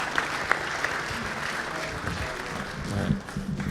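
Applause from an audience at a water forum panel, a dense continuous patter of many hands clapping close by, swelling slightly near the end, with faint voices mixed in.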